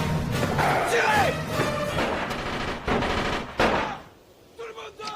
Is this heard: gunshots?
yes